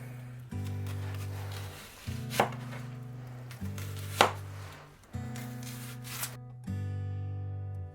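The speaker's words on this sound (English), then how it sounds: "We're just dicing this onion up." A knife dices an onion on a cutting board for holiday stuffing, giving repeated rapid chopping bursts in several spaced rounds, close and fairly clear, with no voices.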